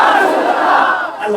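A large crowd at a religious gathering roars a slogan back in unison, a loud, sustained massed chant that fades slightly at the end.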